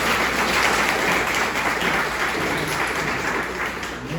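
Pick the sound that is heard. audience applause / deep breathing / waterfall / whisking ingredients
audience applause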